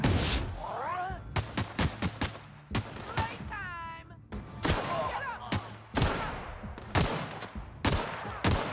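Rapid bursts of video game gunfire ring out in quick repeated volleys, loud and sharp, with slowed, warped time-dilation effects and someone talking between shots.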